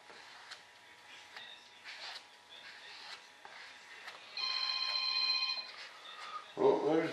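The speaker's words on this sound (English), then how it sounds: "Oh, there's the phone." A telephone rings in a workshop where a model F-105 Thunderchief RC jet is being built, a faint electronic ring rising briefly above quiet room noise before a voice speaks up at the end.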